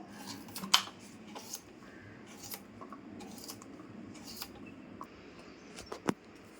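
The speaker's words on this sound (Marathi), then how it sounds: "खोबरं कापून घेते बारीक बारीक मिक्सरमध्ये टाकायला" Fresh coconut is cut finely with a knife, producing faint, irregular crisp clicks and taps against the board at close range, with quiet pauses between the cuts.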